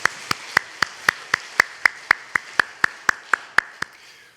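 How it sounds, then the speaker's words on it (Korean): Church congregation clapping together during a Korean Sunday worship service: sharp, evenly spaced claps in a steady rhythm, about four per second, fairly close and alone over a quiet room. "다시 한번 축복과 격려의 박수 하시겠습니다."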